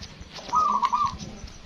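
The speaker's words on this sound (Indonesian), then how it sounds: "di atas itu burung bunyi terus ini" A zebra dove (perkutut) kept in a cage gives a single short call, fairly close and alone against faint background noise.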